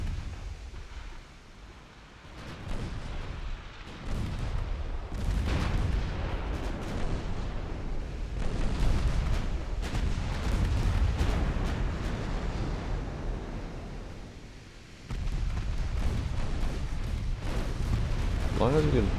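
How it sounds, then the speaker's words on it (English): Cruiser guns firing in the naval battle game Ultimate Admiral: Dreadnoughts, with repeated rumbling booms and crackling salvos over a continuous low roar while someone talks throughout. "all my cruisers are firing at the same target now"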